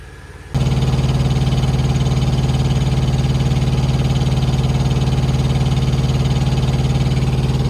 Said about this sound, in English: Got the fan blowing.